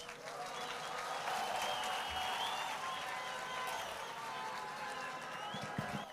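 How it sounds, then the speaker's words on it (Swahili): An outdoor crowd at a Desertification and Drought Day event in Vipingo, Kilifi County, applauding a child: steady, distant-sounding clapping that holds throughout, with faint voices mixed underneath. "Makofi mazuri kwa mtoto Ashley jameni"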